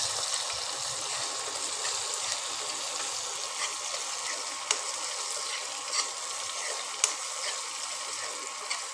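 Capsicum is stir-fried in a pan for restaurant-style cabbage manchurian, making a steady moderate sizzle with occasional sharp clinks of a spatula against the pan, close by and with no talk.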